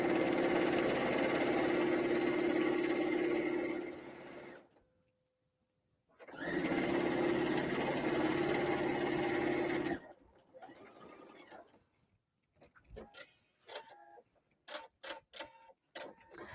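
A sewing machine runs in two long bursts of steady, loud mechanical whirring with a short pause between, backstitching fabric for an insulated tea cozy, followed by scattered clicks and handling noises.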